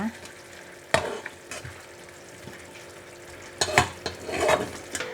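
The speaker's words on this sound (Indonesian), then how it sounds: "Kita aduk lagi." A spoon stirs Del Monte BBQ sauce thinned with a little water in a pan, giving a soft bubbling simmer broken by a few sharp scrapes and clinks, loudest near the start and again toward the end.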